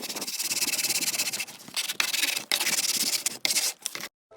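Sandpaper rubbed over wood for a handmade chalkboard sign, a close, dry, hissing rasp in steady back-and-forth strokes with brief pauses between bursts, ending abruptly.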